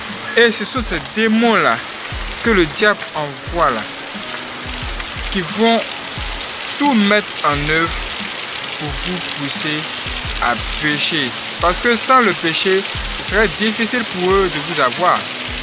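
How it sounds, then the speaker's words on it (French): Steady rain falls outdoors throughout, a continuous hiss that sits loudly under a man preaching in French. "Excusez-moi pour la pluie"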